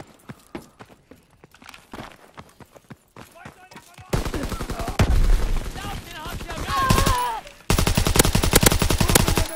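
Call of Duty WWII multiplayer gunfire on the Gibraltar map, rapid bursts of shots and booms, quiet at first then loud and dense, with game voices and effects layered over it.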